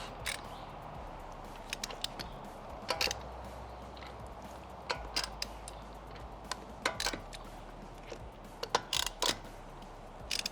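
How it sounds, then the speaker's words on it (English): Sparse, faint clicks and ratchet-like ticks while lug nuts on a Tesla wheel are worked loose with a breaker bar and socket, irregular and quiet over a low steady hum with no talking. "Now we're gonna take our breaker bar and get these to where they're hand tight, and we can take all the lug nuts off."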